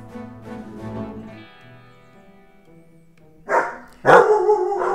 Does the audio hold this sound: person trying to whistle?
no